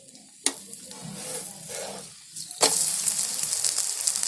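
Besan dhirde cooks in a pan on a lowered gas flame as a spoon of oil is added, giving a soft crackle and a sharp onset of steady, bright sizzling that continues to the end. A couple of brief knocks precede it.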